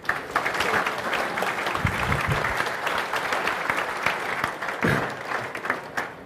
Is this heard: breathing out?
no